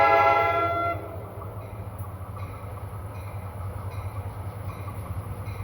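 A train horn blasts briefly, then an F40PH diesel passenger locomotive rumbles steadily past with low engine drone and rolling wheel noise.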